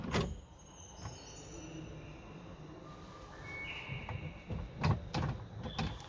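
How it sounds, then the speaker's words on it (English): A soft-close drawer in a campervan slides along its runners and eases shut, giving a few quiet rolling and knocking sounds that end in soft clicks, close by. "And here is a proper drawer with sides to it"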